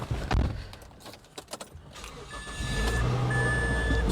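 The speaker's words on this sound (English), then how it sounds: "Even when I start the car, I don't hear like rattling noise on the body" A 2004–2009 Mazda 3 with a newly replaced engine mount starts up, a brief jingle of keys followed by the engine catching and settling into a steady, close idle hum.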